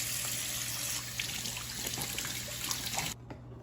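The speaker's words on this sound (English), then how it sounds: "now I'm gonna prepare the peppers, rinse it out, remove the label on it" Peppers being rinsed under a running kitchen tap for a vegetable stew, a steady close hiss of flowing water with small splashes, which stops abruptly near the end.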